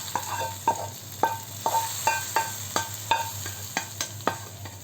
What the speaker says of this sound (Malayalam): നമുക്ക് വറവ് മീൻകറിയിലേക്ക് ചേർത്ത് കൊടുക്കാം